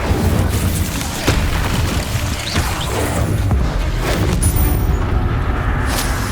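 An explosive Confringo spell blast in the Hogwarts Legacy video game booms and crashes loudly amid dense game combat noise, with repeated impacts over several seconds.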